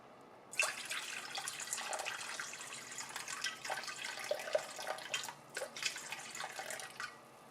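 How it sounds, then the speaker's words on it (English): Warm water splashes and trickles into a bowl for sourdough bread dough, a close, fairly quiet pour with irregular gurgling bursts over several seconds, no talking. "I got some warm water here."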